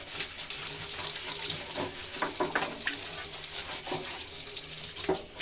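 Running tap water rinses a plastic paint roller tray, making a steady close splashing gush with scattered spatters and knocks as the tray shifts under the stream. No one speaks.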